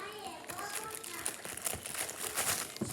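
Orange Nickelodeon slime packaging is crinkled and rustled close up for a few seconds, with scattered crackles while a voice chatters faintly underneath.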